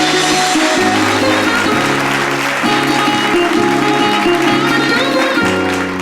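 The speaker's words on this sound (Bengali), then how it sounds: "একটা জোরে হাততালি হোক" Audience applause welcomes a judge, a distinguished dancer, onto the stage at a dance event: steady, dense clapping filling about six seconds, loud and continuous, with tonal music playing underneath.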